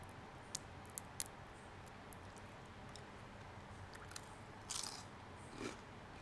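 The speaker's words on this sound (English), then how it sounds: "Did you hear the crunch from that cornflake?" Close, quiet crunching as someone bites and chews cornflake-coated air-fried chicken, a few sharp crisp cracks early on, then softer chewing and a brief louder crunch near the end, with no talking.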